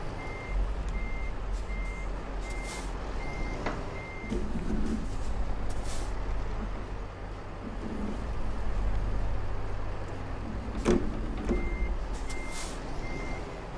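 Reversing beeps from a truck being parked in Euro Truck Simulator on a Scandinavian route, repeating at a steady pulse over a continuous low engine rumble and road noise, with one sharp air-brake-like hiss partway through.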